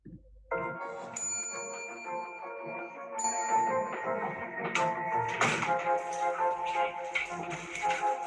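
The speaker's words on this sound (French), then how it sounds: "Tu as appuyé sur la sonnette" A bright desk bell is pressed twice, ringing out clearly, followed by tapping and clattering as the tones fade.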